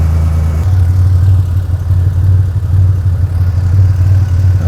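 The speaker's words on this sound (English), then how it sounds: "It's idling nice, 700." A junkyard-sourced turbo engine in an S10 pickup idling at 700 rpm, a loud, close, steady low rumble with a slight shift in pitch early on, then holding even throughout.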